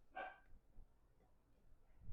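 A dog gives one short, fairly loud bark near the start in a home kitchen, followed by quieter low thumps and room noise.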